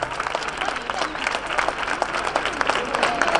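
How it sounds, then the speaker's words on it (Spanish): A crowd applauds a Palm Sunday Holy Week procession in Priego de Córdoba as the float withdraws, steady dense clapping throughout, loud and close, with voices mixed in. "¡Ay, aplausos!"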